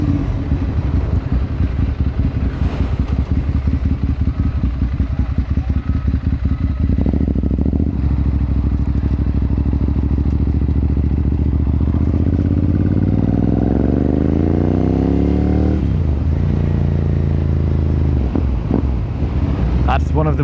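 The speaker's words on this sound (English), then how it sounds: "the little brap you can give if you pull in the clutch" A Ducati V-twin motorcycle engine close up, a loud steady throbbing idle that swells into revs and falls back, with wind buffeting the microphone throughout.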